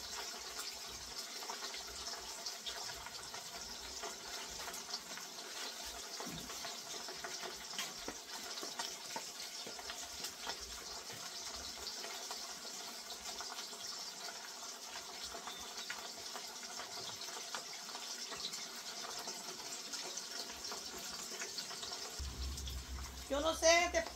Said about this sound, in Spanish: Voy a poner agua para café